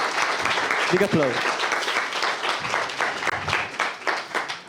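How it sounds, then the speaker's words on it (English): Conference audience applauding at a Python lightning-talk session, a dense, steady wash of clapping throughout with voices mixed in underneath. "Big applause."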